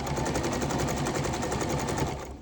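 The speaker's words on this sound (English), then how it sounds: "all we're going to do is we're just going to sew one side and then we're going to sew the other side." A sewing machine stitches the seam of a junk journal, running in a steady, fast mechanical rattle that carries unbroken through the whole stretch before easing off at the very end.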